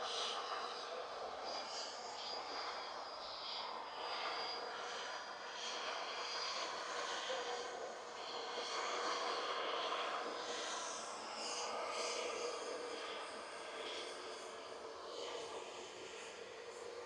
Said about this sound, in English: This EasyJet sounds like it's ready to go.